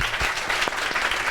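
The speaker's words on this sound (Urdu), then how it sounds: "زوردار تالیوں میں" Studio audience breaks into dense, steady applause during a Ramzan transmission show, loud and sustained with a few sharper claps standing out.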